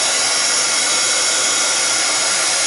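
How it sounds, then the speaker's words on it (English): A Durice embossing gun blows hot air to dry craft work, a loud, steady, close whooshing roar like a hair dryer that holds unchanged throughout with no voices. "This is the embossing gun, the Durice embossing gun, and I like using this because it does dry things a lot quicker."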